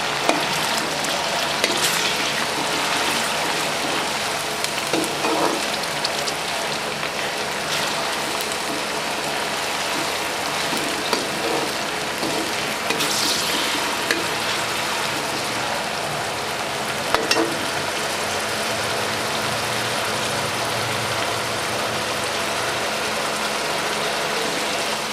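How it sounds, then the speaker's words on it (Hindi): Chopped onions frying in a pan for a dhaba-style chana dal, a steady close sizzle and crackle with occasional louder pops, continuing without talking. "प्याज को अच्छे तरीके से फ्राई करेंगे।"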